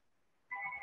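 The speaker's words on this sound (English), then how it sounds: "excuse the phone" A telephone suddenly starts ringing with a bright electronic trilling tone that cuts in halfway through after near silence, fairly faint and heard alone.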